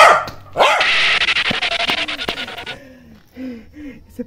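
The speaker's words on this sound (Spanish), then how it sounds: "¡Un perro!" A dog barks in a quick run of several sharp, loud close barks, followed by a few softer yips, set in a cartoon-style scene of someone walking to the shop.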